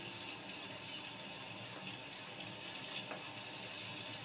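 Tomatoes boil in a pot of water for a tomato mash, giving a steady, even wash of bubbling and hissing water with no talk over it.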